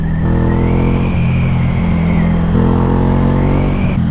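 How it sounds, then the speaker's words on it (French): A Ducati 797 motorcycle engine runs loud and close, its idle rumble lifting and falling in brief throttle blips with a steady low-pitched drone and no talk. "Ah, le son, il est dingue."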